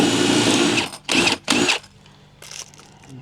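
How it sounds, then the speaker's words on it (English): A power drill whirs loudly in two short bursts, boring a hole in a lid, then a fainter third burst; no talking. "So let's drill that hole."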